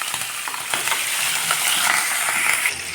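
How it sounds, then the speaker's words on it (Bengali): Prawns fry in mustard oil in a wok, giving a close, steady sizzle broken by metallic scraping and clicking from stirring, with no one speaking. "তেল গরম হয়ে আসছে, চিংড়ি মাছগুলো ভেজে নেওয়া হবে।"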